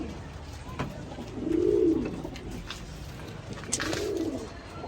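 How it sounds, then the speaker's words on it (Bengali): Pigeons of several fancy breeds, including Teddy and Giribaz, coo in low rolling phrases, two distinct coos a couple of seconds apart over a faint background hum of the loft. "বিভিন্ন কবুতরের জাত আছে এখানে।"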